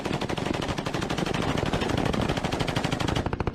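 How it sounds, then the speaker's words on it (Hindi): Iraqi forces pour rapid automatic gunfire at an ISIS vehicle, dozens of rounds in a dense, loud, continuous rattle of closely spaced shots that runs for the whole stretch with no pauses. "ताबड़तोड़ गोलियां बरसाते"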